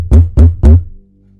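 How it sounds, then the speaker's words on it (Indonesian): Three heavy, booming bangs on a back door in quick succession, close and loud, followed by silence. "terdengar gedoran dari arah pintu belakang sambil memanggil-manggil namanya"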